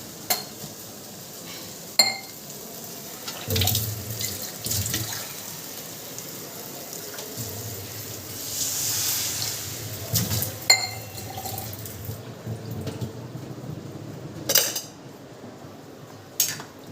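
Dishes and pots clatter and scrape under a running tap at a home sink, with intermittent metallic clinks over the rush and splash of water that swells and fades.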